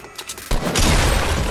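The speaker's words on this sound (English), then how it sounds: "Guy sniped me, and then he ran away." A single sniper rifle shot in Fortnite cracks out loudly after a brief quiet moment, followed by a dense rumbling, crackling tail that fills the rest of the short moment.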